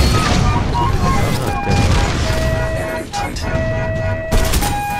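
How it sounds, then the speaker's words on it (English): Shotgun blasts in the shooter game Titanfall 2, loud and booming within dense, continuous combat noise with crashes and explosions layered over one another. "Giant ass shotgun coming at you."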